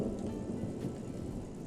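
Steady rain with low rumbling thunder in the Gold Rush video game, a continuous wash of falling water and deep rolling murmur at even loudness throughout, with no voices.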